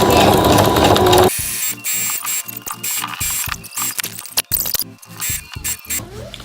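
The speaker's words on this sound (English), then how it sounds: "So I'm just gonna sew on down, keeping the teeth underneath the groove." A sewing machine stitches a zipper onto a dress in rapid, rhythmic mechanical chatter. It runs in loud, close bursts broken by short stops, with no voice.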